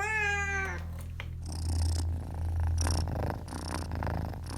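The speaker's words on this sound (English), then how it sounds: "purring loudly with affection" A cat meows once, then a close, loud rumbling purr swells and fades in rhythmic breaths.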